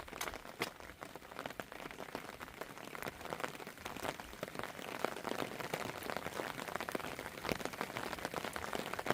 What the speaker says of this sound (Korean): 비가 덜 온다